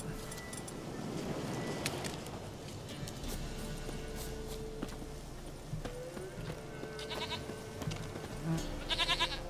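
Horse hooves clip-clop through The Witcher 3 countryside. A goat bleats with several quavering calls toward the end, over game ambience, and no voices are present.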